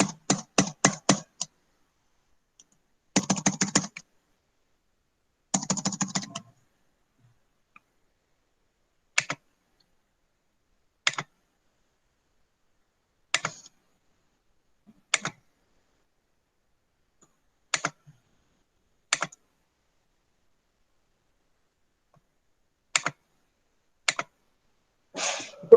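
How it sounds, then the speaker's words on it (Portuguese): Computer keyboard typing in short, separate bursts: a few quick runs of key clicks, then single sparse taps spread out over the rest of the clip, close and fairly quiet, with no talking. "Tem até máquina de escrever aí, pô. É um teclado aqui, Paulo."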